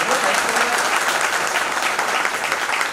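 An audience at a talk on network marketing bursts into steady, dense applause, close and loud throughout, with a voice briefly heard under the clapping.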